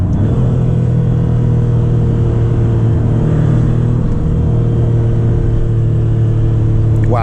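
Inside a 2024 Maserati MC20 in Corsa mode, the engine drones loud and steady under acceleration, a continuous low rumble heard from the cabin with no speech.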